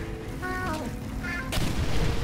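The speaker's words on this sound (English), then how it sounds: "Oh my goodness, explosions everywhere." Explosions in the video game Portal 2: rumbling booms and crackling blasts layered over game noise and falling debris, with a sharp burst near the end.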